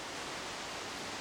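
Steady broadband roar of water pouring down Yongchu Falls on Jaeyaksan mountain, a continuous rushing wash with no breaks, heard alone at moderate level.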